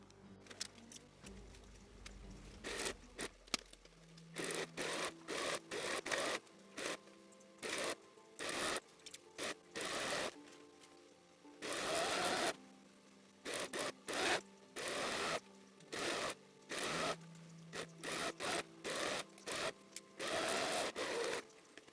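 A sewing machine stitches the back seam of a dress made from pre-smocked fabric, running in short, loud mechanical bursts separated by brief pauses as the fabric is guided, close up and with no talking.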